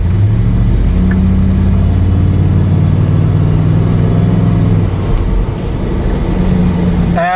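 A 1996 Chevrolet Tahoe on its original transmission driving along, a loud steady engine drone with road noise rising and falling in pitch through the gear changes.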